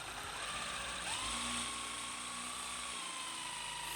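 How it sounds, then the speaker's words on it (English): A power drill boring into a wooden stair tread, a steady high whine with a slight pitch rise as the bit bites in, continuous and close. "I put a black mark on the drill to know how deep I should go"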